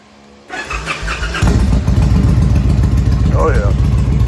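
A 2003 Victory Vegas VFXRT fitted with slip-on mufflers fires up nearby, then settles into a loud, deep, throbbing idle with a brief swell of revs.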